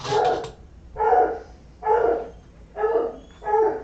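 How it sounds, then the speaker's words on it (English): A dog barks indoors, five sharp, fairly close woofs spaced about a second apart in an even rhythm, with quiet pauses between them. "That sounds like my daddy's home type of bark."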